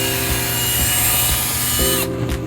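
A power drill pre-drills holes with a number 8 bit into 2x4 wood while building a foldable FLL table, a steady continuous whir with a shift in pitch near the end before it cuts off.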